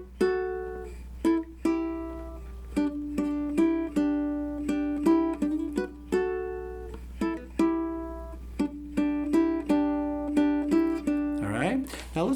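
A baritone electric guitar plays a riff on two strings, chugging low notes mixed with sharp muted stabs in a slow, steady rhythm, close and clean with a low hum underneath and a brief scraping slide at the end.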